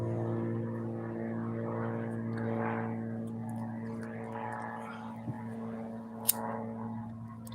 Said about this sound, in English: A lot of times the planes go over top me. I live by an international airport.